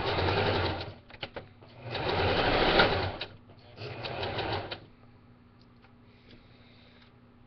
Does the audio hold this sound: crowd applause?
no